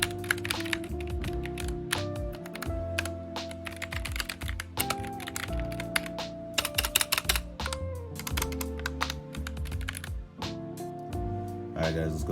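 Typing on a GK61 keyboard with Gateron Optical Silver switches, rapid close clacking keystrokes in dense irregular bursts over faint game audio.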